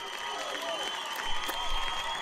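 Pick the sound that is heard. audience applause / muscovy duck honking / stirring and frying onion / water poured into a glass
audience applause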